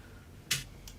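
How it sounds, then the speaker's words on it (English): Synthesized Arturia drum hit resembling a snare rattle: a single short, bright burst near the middle, followed by two fainter ticks at the end, isolated against quiet background. "Sounds more like a snare rattle"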